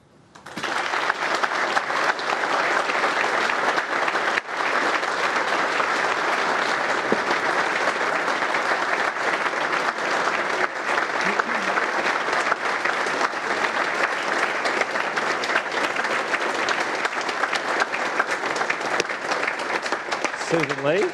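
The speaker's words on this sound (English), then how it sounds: "The applause might go on forever otherwise." Sustained audience applause at the National Press Club following a political leader's address, dense and steady clapping from a large crowd lasting about twenty seconds without letting up.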